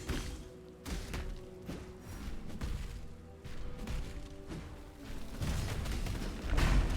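Repeated explosions in the video game Path of Exile, a series of dull thuds and bursts at irregular intervals over a constant background din, fairly loud with no talk.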